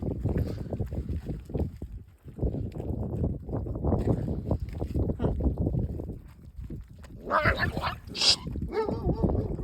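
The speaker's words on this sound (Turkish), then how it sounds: "Bana havlayana bak hele hele hele hele hele." A dog barks outdoors in rapid, overlapping bursts at close range, with brief whimpers and some wind, and a voice occasionally beneath.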